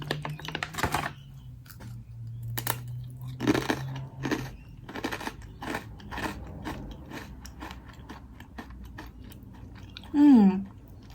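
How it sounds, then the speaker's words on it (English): Close crunchy chewing of a dry, crisp baked garlic bagel snack, with irregular crackling bites, a faint hum underneath and a brief vocal sound near the end. "Can you guys hear the crunch? The crunch is so good."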